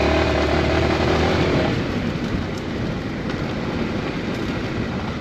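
A Macbor Montana XR5 motorcycle is ridden off-road, its engine a continuous loud rumble mixed with heavy wind and rolling noise that eases slightly after the first two seconds, with no talking.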